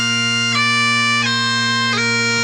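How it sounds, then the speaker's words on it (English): A bagpipe sounds loud and close, its steady drones holding under a few sustained chanter notes that shift about every half second, with no voices. "There's a giant bag with pipes, and I squeeze on it and blow into it."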